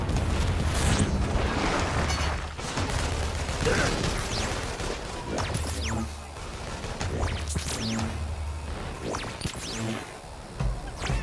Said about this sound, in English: Fireworks, man!